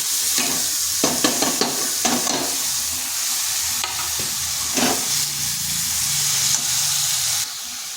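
Grated cauliflower sizzles and fries in a spiced masala on a low flame, a steady hiss broken by repeated scraping stirs of a spatula in the pan, close and fairly loud, with no talking.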